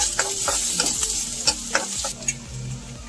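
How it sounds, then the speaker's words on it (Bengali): Chopped onions and green chillies frying in oil for veg momo filling, stirred as they cook: a steady close sizzle with repeated scraping strokes of a spatula across the pan. "এটা একটু হালকা করে নেড়ে লাল লাল করে নেব"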